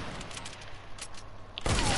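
Gunfire in the Fortnite video game, a scatter of quick distant shots crackling through the first part, then a louder close burst near the end.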